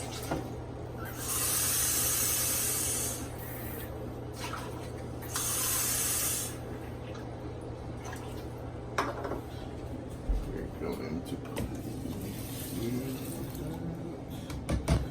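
Water hisses as 2.5 cups are poured into a rice cooker container for brown rice, two louder bursts of flow standing out over steady background noise, followed by quieter handling clatter.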